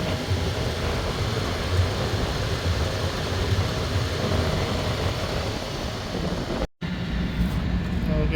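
Blower motor running inside a Trane package air conditioning unit, a steady loud whooshing drone of moving air and motor hum that continues unchanged, briefly cut by a short gap near the end.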